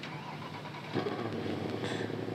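A Mercedes car engine in the Roblox game Driving Empire runs steadily with a low hum, then revs up louder near the one-second mark and holds a raised drone, with no talking.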